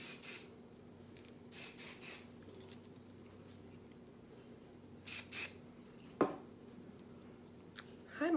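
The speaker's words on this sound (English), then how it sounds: "give a couple sprays." Hair spray hisses from an aerosol can in a few short, close bursts, with quiet rubbing and handling sounds between them.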